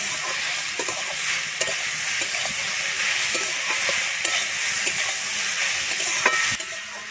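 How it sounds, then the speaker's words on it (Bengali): Chopped banana stem frying with potato and eggplant in hot oil gives a steady dense sizzle, with occasional scraping stirs and spatula taps over the pan, close up and without talk. "এরপরে আমি আলু বেগুনের সঙ্গে একটু ভালোভাবে একটু ভেজে নেবো ছোটটাকে।"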